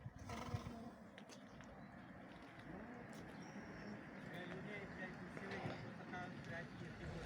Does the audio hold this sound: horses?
yes